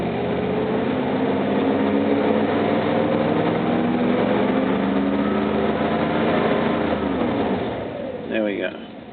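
A car engine fitted with a programmable ignition module revs in neutral, a steady droning run with rising harmonics that eases off near the end, heard up close with someone talking over it.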